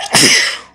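A single sharp sneeze bursts out close and loud, then fades quickly.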